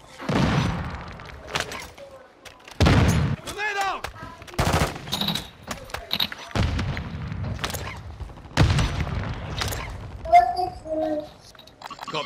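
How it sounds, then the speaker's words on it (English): Gunfire and a grenade blast in Call of Duty: Modern Warfare II, with loud booming bursts and rattling shots at irregular intervals, plus game voice lines and shouted callouts between them. "Throw a grenade!"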